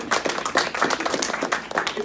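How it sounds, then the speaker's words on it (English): Audience at a library science demonstration giving a short round of applause, rapid overlapping claps at moderate volume lasting about two seconds. "So, give them a round of applause."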